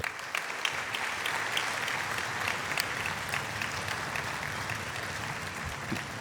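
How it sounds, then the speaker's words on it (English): A school concert audience gives dense, sustained applause for junior high school bands, steady clapping throughout with no talk. "So let's give a round of applause to all three George bands one more time."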